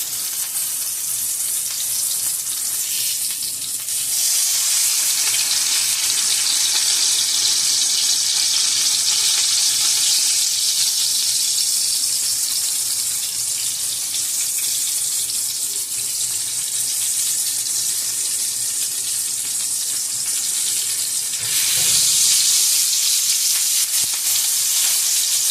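Chapli kebab patties with tomato pressed into them fry in a pan, giving a loud, continuous, even sizzle that runs unbroken and swells slightly near the end.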